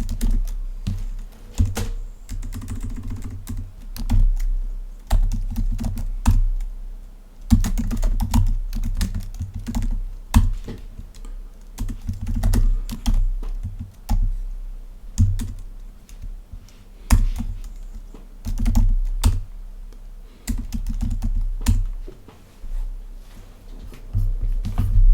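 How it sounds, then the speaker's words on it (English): Steady typing on a computer keyboard while entering code for a SwiftUI app, with close, irregular bursts of key clicks running throughout and no talking. "So the first thing we need to do is type in the following code"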